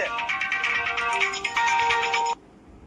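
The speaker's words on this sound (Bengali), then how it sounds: "আবার এক্ষুনি ফোন করেছে" A mobile phone ringtone for an incoming call plays a bright repeating electronic melody for about two seconds, loud and close, then cuts off abruptly into quiet.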